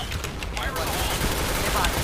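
Rapid bursts of video game gunfire crackle continuously with dense, booming grenade blasts, loud and close, filling the whole stretch with sustained combat noise.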